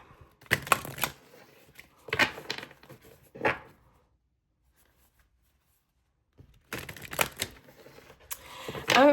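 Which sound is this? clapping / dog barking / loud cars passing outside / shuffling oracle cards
shuffling oracle cards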